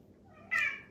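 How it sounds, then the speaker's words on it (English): A pet cat lets out a single loud, drawn-out meow close by, rising sharply out of near silence and fading off over about half a second. "My cat is yelling at the birds."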